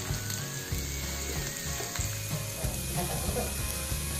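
Steady sizzling of onions frying in a pan, a continuous crackle with faint clinks, no talking.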